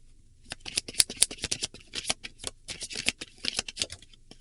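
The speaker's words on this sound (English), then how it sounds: "While I was shuffling, I saw the 5 of Cups." Tarot cards being shuffled up close, a rapid run of crisp riffling flicks and soft slaps in bursts, with no voices.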